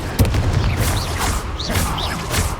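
Confringo fire-blasting spell in Hogwarts Legacy, bursts of crackling explosive energy with thuds and whooshing streaks repeating over a busy combat bed, loud and close.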